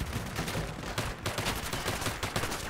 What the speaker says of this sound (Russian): О, меня гранатами закидывает.